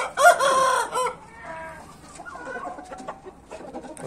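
A rooster crows loudly nearby, followed by softer clucking and more distant crowing from other fowl.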